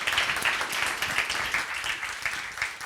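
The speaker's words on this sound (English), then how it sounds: "give a warm round of applause" A conference audience at the Neos Conference applauds a speaker, a dense patter of many hands clapping steadily at moderate loudness throughout, with no one talking over it.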